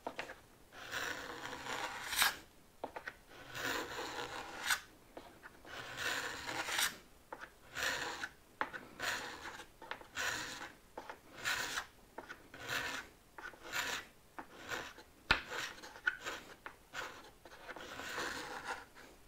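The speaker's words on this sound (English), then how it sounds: "Now I'm going to use my card scraper. And I'm going to pull it backwards." Card scraper drawn backwards along a wooden workpiece, a series of soft, rhythmic rasping strokes repeated steadily, close and fairly quiet, with no talking.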